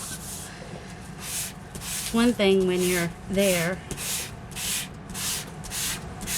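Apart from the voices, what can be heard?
sanding block rubbing paper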